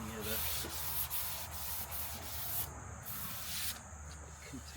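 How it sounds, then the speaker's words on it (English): Hand sanding with 400 grit sandpaper across the top of a surface: a quiet, continuous scratchy rubbing with rhythmic back-and-forth strokes, close up and without talk. "I'm just going to take a little bit of 400 grit. Just rub across the top of it a little bit"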